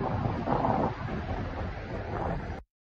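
Strong wind blows over a river where boats are moored, a low, rumbling gusty roar buffeting the microphone steadily for a few seconds before cutting to silence.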